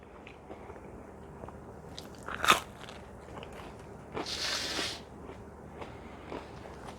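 A bite into a slice of Zuppardi's frozen New Haven-style apizza gives one sharp crunch, then chewing with a longer muffled crunchy stretch, close and moderately loud over a quiet room background.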